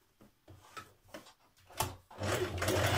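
A sewing machine stitches a back tack on jeans fabric: a few short stop-start bursts of stitching, then a steadier faster run, close and moderately quiet with no talk.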